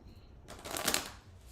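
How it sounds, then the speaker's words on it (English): A deck of Healing Energy Oracle cards gets a brief riffle shuffle, a soft close-up papery flutter lasting about a second before fading into quiet. "Now we'll shuffle the Healing Energy Oracle cards"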